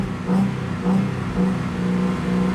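A 2005 Ford Mustang engine with about 109K miles and a broken tach runs smoothly, a steady mid-pitched hum that swells in several soft pulses, heard close and alone.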